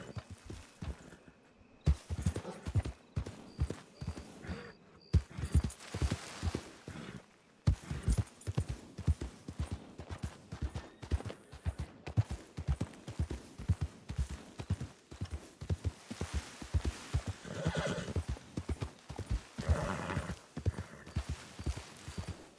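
Horse hooves clip-clop in irregular bursts with occasional snorts in Red Dead Redemption II roleplay on a RedM server, fairly quiet and close, with no talk over them.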